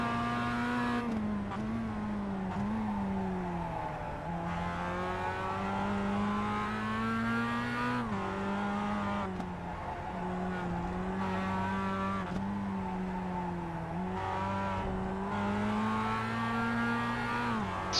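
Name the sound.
Mazda MX5 race car engine and braking in iRacing video game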